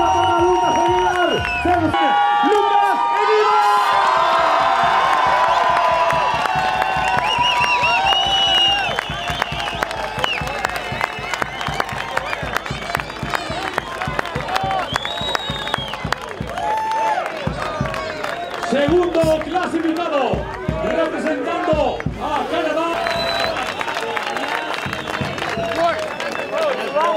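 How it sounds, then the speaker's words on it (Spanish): At a ski race podium ceremony in Baqueira, a crowd claps, cheers and whoops for skier Lucas Aguilar, the cheering rising and tapering unevenly under a loud announcer's amplified voice. "aplauso arriba para Lucas Aguilar"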